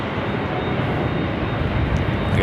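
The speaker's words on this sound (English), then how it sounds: "This is a 12-year-old 747-8 Intercontinental heading back to Frankfurt." A 12-year-old Boeing 747-8 Intercontinental on a LAX runway gives a steady, loud, broad roar of jet engines, continuous and unbroken, heard from a distance outdoors.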